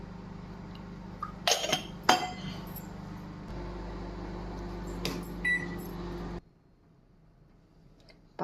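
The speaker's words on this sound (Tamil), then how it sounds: "பால் ரெடி, மைக்ரோவன் வச்சாச்சு." A microwave oven heating milk hums steadily at low pitch, preceded by a few sharp glassy clinks and knocks of a cup or door, then the hum stops and near-silence follows with a faint click.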